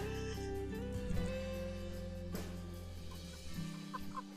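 Pastured chickens on a homestead cluck softly and intermittently during morning chores, over a steady low hum, with a few scattered bird calls near the end.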